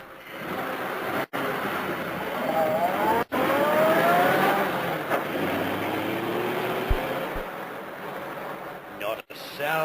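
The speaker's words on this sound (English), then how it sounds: "jumping in when the car began to gather speed" In an old radio drama sound effect, a car gathers speed and drives off. The engine drone rises through accelerating tones over a continuous road rush, broken by a few abrupt cuts.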